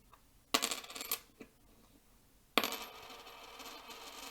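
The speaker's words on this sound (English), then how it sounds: "The copper penny has a much nicer ring to it, and the zinc penny is going to be much more dull in the sound that it makes." Copper and zinc pennies dropped one after another onto a hard surface: a few sharp metallic clinks, then a brighter ringing drop that sustains briefly, close and quiet with no talk.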